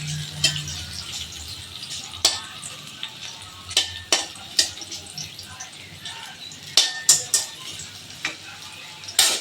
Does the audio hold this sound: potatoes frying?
yes